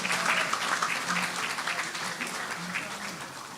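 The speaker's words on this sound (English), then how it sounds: "they deserve one more round of applause" An audience at a memorial gathering gives sustained applause, a dense wash of clapping that stays steady and fairly soft, with a voice faintly audible underneath.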